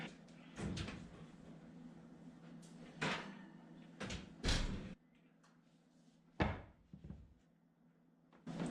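An oven door opens and a pan of risen focaccia dough is lifted out, giving a quiet run of separate thuds, clunks and metal knocks in a kitchen.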